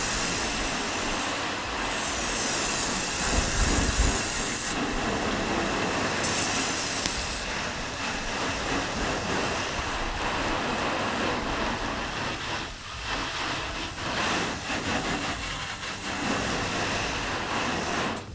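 Steady broadband hiss of water spraying against a Plasti Dip–coated car panel, continuous and fairly close, with shifting intensity as the stream moves across the panel.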